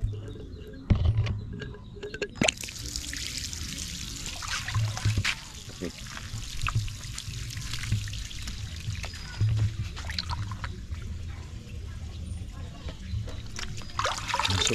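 Water trickles and pours steadily through a small drain pipe, with people talking over the running flow.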